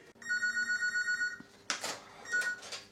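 A telephone bell rings in a fast trilling burst for over a second, then pauses before a short rustle and the start of another ring, close and clear with no talk.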